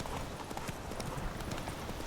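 A horse's hooves clip-clopping in The Witcher 3, a steady run of close, distinct hoof beats under a low game background, with no voices.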